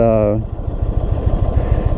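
A 2022 Indian Super Chief motorcycle sits at a traffic light, its engine idling in a low, steady, lumpy throb close by after a brief tonal sound at the start.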